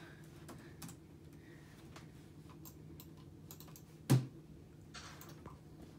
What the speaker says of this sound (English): He's so slow, like, typing.